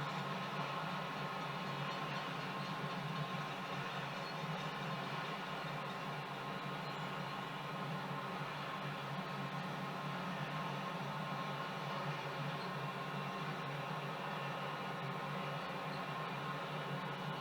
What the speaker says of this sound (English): A downline train coming past us.